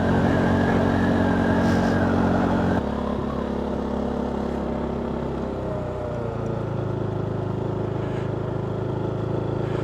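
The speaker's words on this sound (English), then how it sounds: "The bike, it might appear to be surging, but I'll be quite honest, that's my hesitation on the throttle" A KTM 390 Duke motorcycle engine runs steadily close by during riding drills on a foggy morning, its note dipping and rising as the throttle is eased and reopened, with no voices.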